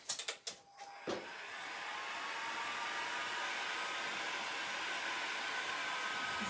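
Opening clicks and knocks give way to the steady blowing whir of a heat gun warming wood moulding, a continuous faint drone that holds to the end.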